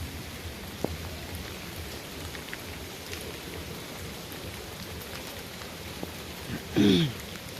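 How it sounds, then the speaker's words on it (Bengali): Heavy rain falls steadily in a village, a dense continuous patter with occasional louder drops, and a brief louder burst near the end. "এখন অনেক বৃষ্টি হচ্ছে"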